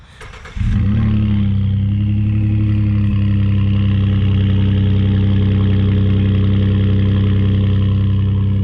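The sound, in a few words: Ford F150 3.5 EcoBoost engine with Pypes stainless steel exhaust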